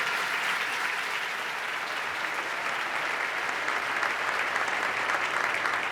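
Sustained audience applause fills a political event where a governor presents his policy agenda, a dense, steady wash of clapping from a large crowd holding even loudness throughout without a break.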